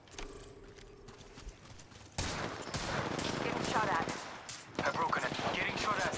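Gunfire erupts in Apex Legends, with repeated shots and bursts that grow denser and louder midway and continue through the rest, mixed with game noise and voices.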